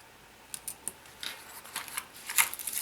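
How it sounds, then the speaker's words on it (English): A pair of scissors is worked open and shut up close: a series of sharp metallic clicks and snips, a few spaced taps early, then a busier cluster of clicks, over a quiet background. "So you just got a pair of scissors, pull that open"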